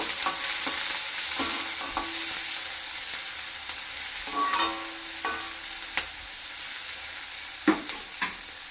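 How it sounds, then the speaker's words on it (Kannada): Onions roast in a hot pan for avarekai palya, a field bean curry. A steady, close sizzle runs throughout, with scattered scrapes and taps from stirring. "ಈರುಳ್ಳಿ ರೋಸ್ಟ್ ಆಗಬೇಕು"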